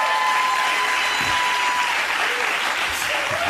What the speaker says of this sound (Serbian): Ora, dobro plaćaš ove aplauze, čovječe.